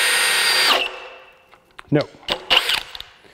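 A Milwaukee M18 FUEL 2906-20 1/2-inch hammer drill runs on its high setting, boring with a 2 9/16-inch bit in a loud steady whine that cuts off, followed by scattered clunks and handling noises.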